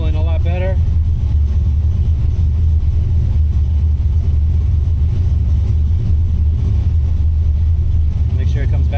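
An LS V8 swapped into a 1988 Mazda RX7 running on Holley Terminator X tuning, rumbling loudly and steadily with a brief rev rise near the start and end, then settling toward idle, with speech over it.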